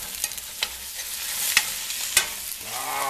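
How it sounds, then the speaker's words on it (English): Ravioli seasoned with garlic powder and pepper searing in a hot pan, a steady close sizzle with a few stirring scrapes and taps. "We want to sear these up real good."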